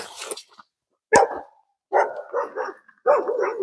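A dog barks repeatedly in short bursts, fairly close, with brief quiet gaps between barks.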